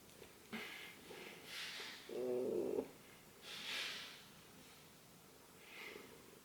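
A small cat purrs close to the microphone in slow breathy cycles, with a louder rumbling purr in the middle and soft snuffling breaths around it, in a quiet room without talking.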